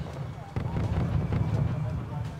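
Artillery fire in the video game Wargame Red Dragon: dense, rumbling barrage of blasts and impacts with a low booming bed, loud and continuous, while in-game voices speak over it.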